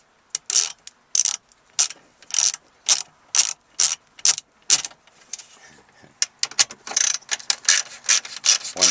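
A screwdriver backs Phillips screws out of a Pontiac Grand Am stereo's dash mounting, giving quick repeated ratcheting clicks in bursts, close and distinct, with brief pauses between.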